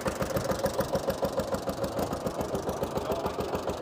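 A 1951 Oliver six-cylinder 38 hp tractor engine runs steadily at idle, its fast, even firing pulses loud and close at an antique threshing demonstration, with a spinning pulley belt.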